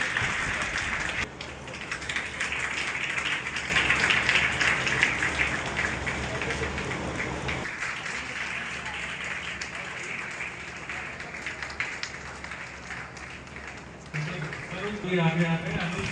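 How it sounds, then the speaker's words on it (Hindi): College audience at an Ayurveda discussion and freshers' party applauds continuously, a loud, steady clapping roar that lasts throughout, with a brief drop before rising again near the end and a voice briefly audible over it. "तालियों की गड़गड़ाहट रुकनी नहीं चाहिए।"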